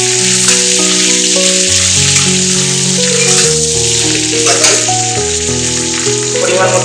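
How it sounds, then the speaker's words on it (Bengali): Onions frying over a high gas flame while being stirred, with a steady hiss running under loud background music. "পেঁয়াজ দিলাম, গ্যাসের ফ্লেমটা হাই করবো, ভালো করে নাড়াচাড়া করবো"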